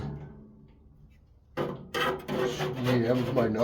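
A scraper rasps across the inside of a pellet grill, clearing ash in loud, close strokes that start abruptly after a quiet moment and continue in rough, repeated scrapes.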